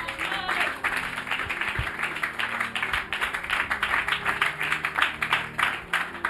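A church congregation bursts into steady, continuous applause and acclaim during a Bible teaching session on Genesis 3. The clapping is dense and sustained throughout, with voices mixed in.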